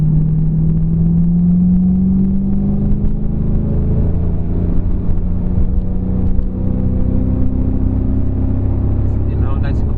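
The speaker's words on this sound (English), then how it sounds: "We're in third gear coming on the freeway and just roll into it." A Coyote V8 car with a boosted setup accelerates in third gear onto a freeway, a loud, steady, close engine drone rising gradually in pitch, with speech audible over it.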